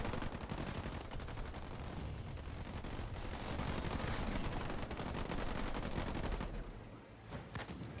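Sniper fire in the real-time strategy game Halo Wars 2 during a 2v2 tournament match, heard as dense, continuous gunfire with rapid shots layered over loud battle noise, steady for most of the stretch before easing briefly near the end.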